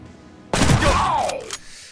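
Gunfire in Mutant Year Zero: Road to Eden rings out as one loud sudden shot that booms and trails off with a whooshing tail, after a quiet start.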